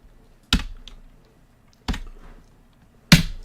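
Computer keyboard keys tapped during a late-night live stream, three isolated sharp clicks spaced about a second apart, close and clear against a quiet background.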